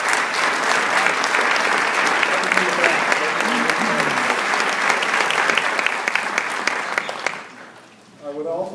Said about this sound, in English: everybody give her a round of applause for all the work she does